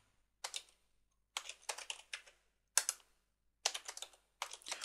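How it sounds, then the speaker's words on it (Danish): A username is typed on a computer keyboard, with several short bursts of quick, crisp key clicks separated by brief pauses, close and fairly quiet with no speech. "Og så skriver du simpelthen ind, hvad du gerne vil have som brugernavn."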